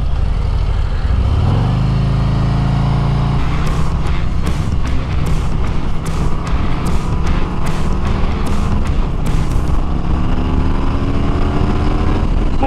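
A 2024 Harley-Davidson Road Glide touring motorcycle with a 1900cc engine runs loud and steady through a tight left-hand turn, its engine note climbing as it accelerates, with sharp wind buffeting bursts over the rumble.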